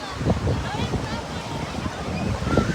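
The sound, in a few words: strong wind at the beach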